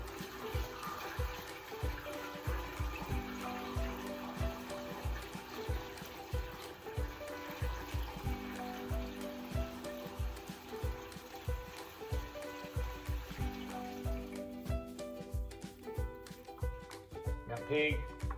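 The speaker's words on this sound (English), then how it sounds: "How many buckets of sap can you stand to watch me pour in?" Maple sap poured from a bucket into a vat during an outdoor syrup cook-down, a continuous splashing trickle and gurgle with rhythmic knocks and clatter, moderately close and steady throughout.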